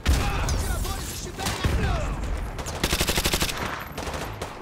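Dense, loud video-game gunfire from Call of Duty: Modern Warfare 2, with overlapping shots from many weapons and a rapid automatic burst near the end, set against a busy battle din.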